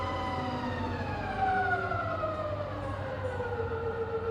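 A rebuilt Bridgeport milling machine with a 42-inch table runs its spindle in reverse at 350 RPM, giving a steady whining hum with rising and falling tonal overtones, close and continuous, with no talking.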